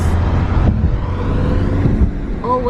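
Road traffic heard from inside a car approaching a highway exit near Pelham, New York: a steady low engine and tire rumble with a passing whoosh, close and loud, with no talk.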